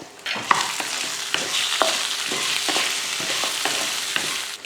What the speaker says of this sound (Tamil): ஒரு சின்ன துண்டு இஞ்சி கொஞ்சமாக புளி சேர்த்து இதை வதக்கி விட்டுருவோம்